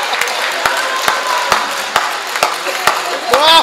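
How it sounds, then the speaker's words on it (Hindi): An audience at a Hindi poetry stage show claps on cue for a poet, with sharp, evenly spaced claps punctuating a steady crowd wash throughout. "तालियां बजा दो सर आप एक बार जोरदार।"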